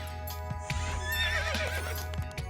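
A cartoon horse gives a loud, wavering whinny, with a few clip-clop hoof beats scattered around it. No one speaks.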